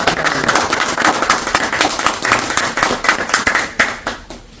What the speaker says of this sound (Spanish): me acompañan con un aplauso nuevamente oficial ya.